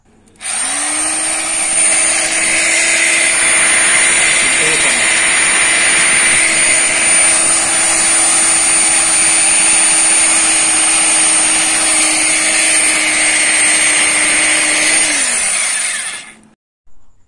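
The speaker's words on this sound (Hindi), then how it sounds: "अब मैं यहाँ दीवार में छेद करके आपको दिखाता हूँ" A WONDERCUT WCGP-2-26 rotary hammer drill bores a hole into a wall. It runs as one loud, steady, high-pitched whine for about fifteen seconds, then stops abruptly, with no talk over it.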